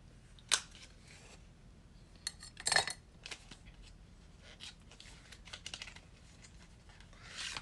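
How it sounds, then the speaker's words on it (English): Cosmetics packaging, holding blush and highlighter products in Flushing Pink and Champagne Shine, is handled and opened at close range. Quiet rustling is broken by a few sharp plastic clicks and snaps, with no talking. "So I have to open the packaging."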